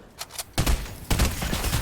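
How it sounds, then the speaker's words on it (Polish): Gunfire in the video game Fortnite: a few quiet shots at first, then two louder sharp bursts of close game gunfire in quick succession. "są pierwsze strzały, dosłownie przede mną"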